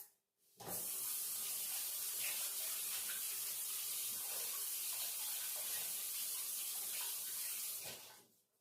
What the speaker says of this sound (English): I got to go wash my hands.